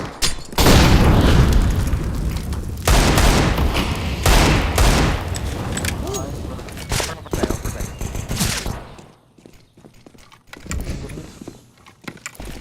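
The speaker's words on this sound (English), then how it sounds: "Throw in a flashbang!" Flashbangs and gunfire burst in a CS:GO match, with loud, dense booms and rapid shots filling the first several seconds. Sparser cracks and rattles follow as the action thins out.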